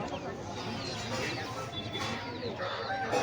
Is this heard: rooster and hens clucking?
yes